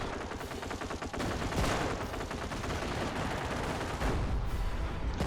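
Sustained machine gun fire in the World War II strategy game Company of Heroes, a dense rattle of rapid shots and scattered gunfire continuing throughout the battle without voices.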